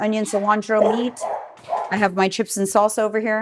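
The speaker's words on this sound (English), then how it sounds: "Sorry about the dogs" Dogs bark and yip in a home kitchen while someone talks through most of it, the barks mixing with and sometimes rising above her voice.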